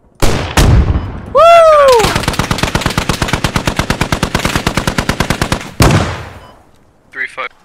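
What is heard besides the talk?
50 calibre machine gun firing at a Humvee in video game Squad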